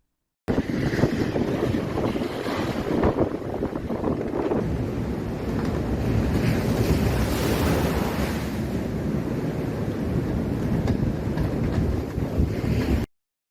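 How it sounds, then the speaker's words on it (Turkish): Giant storm waves driven by a strong poyraz gale pound the Sea of Marmara shore at Tekirdağ's Süleymanpaşa district, a loud continuous roar of surf with heavy wind buffeting across the whole stretch, no voices. "Tekirdağ Süleymanpaşa ilçesi kıyılarında metrelerce büyüklükte dev dalgalar oluştu"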